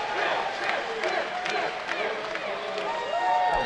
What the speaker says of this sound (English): And the crowd is cheering them on.